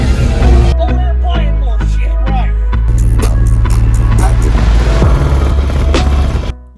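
A single 15-inch subwoofer in a car audio system pounds out loud, deep bass under a music track, booming steadily for several seconds before cutting off.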